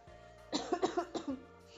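A phlegmy cough comes as a close, wet burst of several quick hacks in a row, then one smaller cough, over a quiet background hum.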